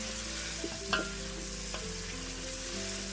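Onions cook down in a pan with a quiet, even sizzle and a couple of brief utensil knocks, faint and close, with a steady hum beneath.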